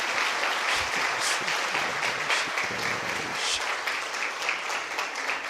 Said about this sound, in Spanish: Y empezamos con un fortísimo aplauso a Jesucristo, nuestro Señor y nuestro Salvador.